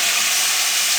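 Vegetables for a pulao sizzling and frying in a pot, a steady close hiss of hot oil throughout with a brief scrape of stirring at the very end, no voices.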